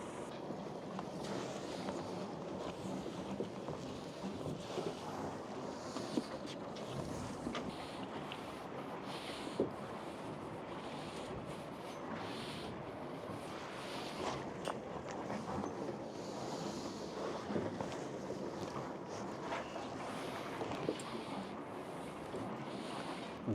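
Strong high wind blowing across a marina as a sailboat is docked single-handed, a constant rushing buffet against the microphone with gusting surges, steady and fairly close, no talking.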